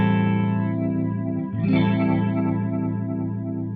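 Electric guitar run through a modulation effect on a Boss ME-70 multi-effects pedal, a sustained chord shimmering with chorus-like wavering, briefly re-struck midway, then ringing on at a steady level with no talking.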